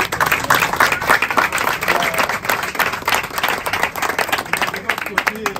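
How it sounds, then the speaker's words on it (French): Guests clap steadily and loudly at a surprise party for a couple's 37th wedding anniversary, with voices mixed into the continuous clapping. "Je vais applaudir."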